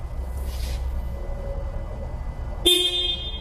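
A car horn sounds once, a sudden loud steady toot near the end, cutting through a low idling hum during a vehicle inspection.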